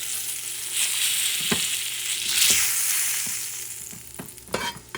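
A utensil scrapes across a hot pan after pork shoulder has been seared, with loud frying hiss throughout and several sharp scraping strokes and knocks, close up and without talk.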